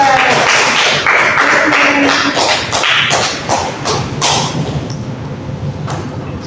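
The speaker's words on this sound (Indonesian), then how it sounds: "beri tepuk tangan untuk kelompok 2" Classroom students applauding for the second group after a discussion presentation, a burst of many claps and thumps fading toward the end, with some voices mixed in.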